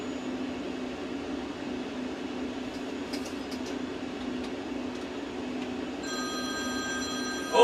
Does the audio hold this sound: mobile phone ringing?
yes